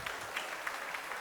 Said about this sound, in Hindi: प्लीज़ थोड़ा मुस्कान के साथ ताली बजाइए